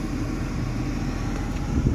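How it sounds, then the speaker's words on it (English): Steady broadband rush of air from a Lincoln Town Car Mark VI automatic climate control blower, close and fairly loud, swelling slightly near the end as the fan speed shifts, with no talking. "And you can hear the air temperature change there, or the air speed change"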